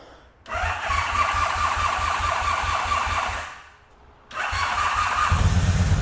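A former world's-fastest motorcycle is started on its starter button with the choke on: the engine catches and runs rough, briefly fades, then cranks and fires again loud and close.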